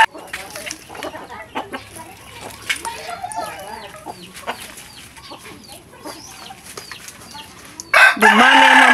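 Kubra chickens, a featherless-neck breed, clucking and chattering in short bursts throughout, close by, with a loud rooster crow breaking in near the end; a person talks faintly among them.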